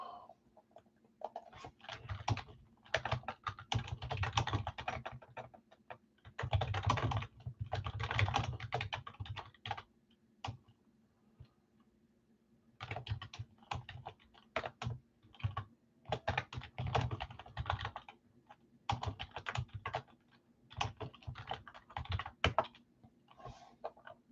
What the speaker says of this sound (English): I was halfway done typing those too.